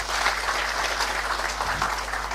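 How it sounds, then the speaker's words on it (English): Steady applause from a university conference audience thanking a professor, a dense wash of clapping that continues evenly for a couple of seconds over a low constant hum. "Why don't we give a clap to Professor Istambale?"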